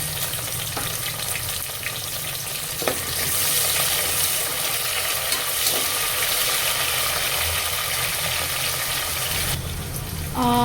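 Whole spices and chopped tomatoes fry in hot oil for Maharashtrian masale bhat, a steady close sizzle that swells louder partway through as the tomatoes hit the pan, with a few light clinks and no talking.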